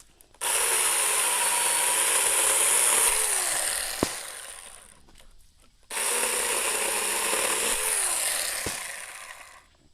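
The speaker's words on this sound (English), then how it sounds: "we're gonna have to go tighten the chain" Two bursts of rasping, ratcheting mechanical noise from tightening the chain on a 4-inch ASJMREYE mini chainsaw, each lasting a few seconds with a sharp click, separated by a brief pause.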